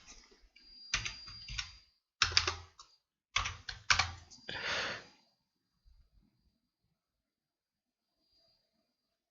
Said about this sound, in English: I'm still using that old keyboard